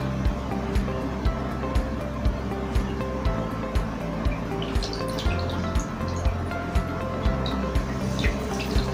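A sponge soaked in water during a classroom demonstration of absorbent materials, with steady, evenly spaced close drips and light watery splashing, no talking.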